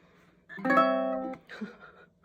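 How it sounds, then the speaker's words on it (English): A single ukulele chord rings out briefly, then a softer, quicker plucked flourish follows, close and fairly quiet with no voices. "the right hand can combine a strum and a pluck called chord melody playing"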